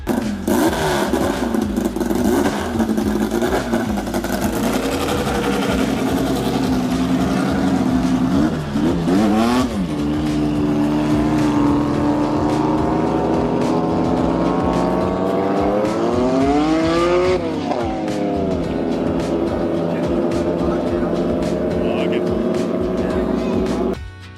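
Loud, roaring race car engine that revs up and down in sweeping pitch changes, with a voice talking over it.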